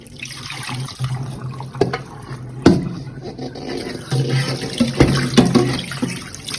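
Tap water runs into a sink with sloshing and splashing as raw fish is rinsed, interrupted by occasional knocks and clatters.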